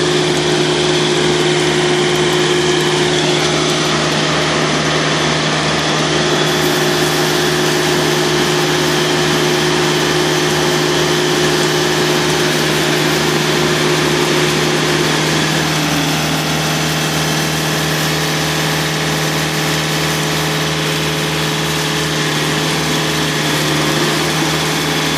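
Diesel engine of a refrigerated trailer reefer unit running steadily, a loud continuous close-up drone with constant hum and vibration that holds alone throughout.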